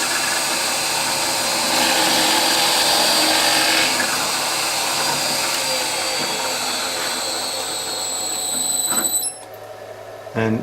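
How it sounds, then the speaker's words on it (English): A drilling machine with a 3-phase motor and variable frequency drive runs with a steady high whine and broadband roar, then spins down near the end with a brief restart; voices murmur faintly underneath. "if you're wondering why this drilling machine makes such a weird startup, it's actually fitted with a 3-phase motor and a variable frequency drive."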